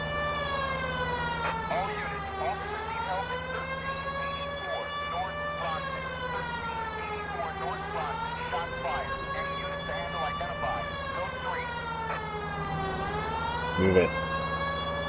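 A police car siren in the video game L.A. Noire wails steadily, rising and falling in slow sweeps over a low engine hum for the whole stretch.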